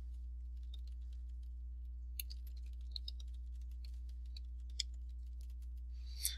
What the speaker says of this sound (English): I know I'm typing quickly.